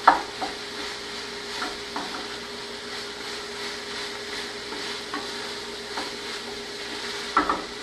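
Food being stirred in a pot with a vegetable and bean dish, soft scraping strokes recurring every second or so under a steady low hiss, fairly quiet and without talk.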